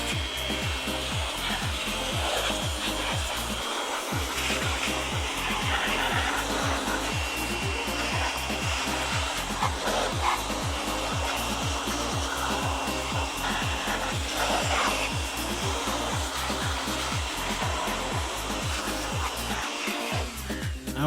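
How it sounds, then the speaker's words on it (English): A Jakmister blower blasts dust out of an old household computer CPU. It makes a loud, steady rushing roar for about twenty seconds, with a rapid low pulsing underneath and two brief dips near the start and end. "let us clean this dust using this Jakmister blower"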